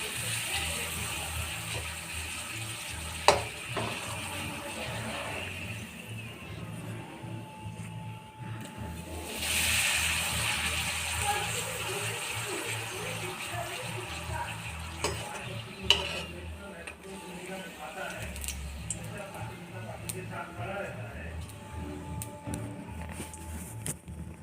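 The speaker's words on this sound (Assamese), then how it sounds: "এতিয়া মই ইয়াতে পাপৰ ফ্ৰাই কৰি লওঁ" Papad frying in hot oil in a home kitchen, a continuous crackling sizzle with a louder hissing surge near the middle and occasional utensil taps, close by with no speech.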